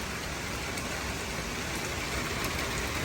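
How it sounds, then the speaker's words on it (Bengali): Heavy rain pours down outdoors in a dense, unbroken roar of hissing patter. It is steady and close for the whole stretch, with no voices. "এখন দেখুন ঝমঝম করে বৃষ্টি হচ্ছে"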